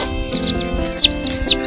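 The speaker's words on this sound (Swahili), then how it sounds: "Uzuri hawa ni kuku wa kienyeji" Indigenous free-range village chickens cluck and chirp close by, with a few sharp high calls over a soft background murmur.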